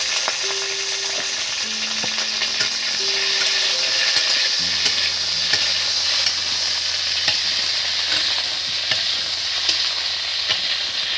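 Cauliflower fries in a pan with a loud, constant close-up sizzle, while a utensil stirs through it with frequent light scrapes and clicks; a faint low tonal hum sits underneath and no one speaks.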